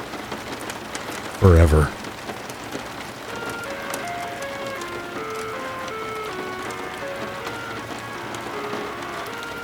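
Steady rain patters against a window in an even, continuous hiss, with a brief loud burst of voice early on and soft tonal notes drifting faintly beneath the downpour.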